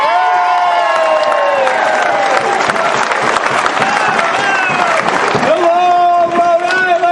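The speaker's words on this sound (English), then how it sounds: "Big round of applause for Keith" A crowd at an outdoor rally claps and cheers loudly for Keith, a dense steady roar of applause with whoops, and voices carrying over it throughout.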